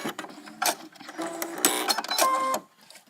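A sewing machine stitches a small semicircle into fabric for a doll dress, its needle running in several short fast bursts with brief pauses between, close and clear.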